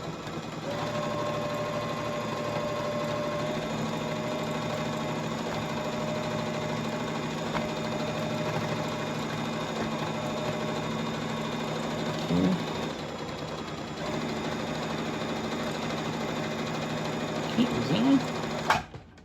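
A sewing machine runs a continuous single stitch on a crash bag, a steady mechanical whir that holds for the whole stretch. Someone speaks briefly over it.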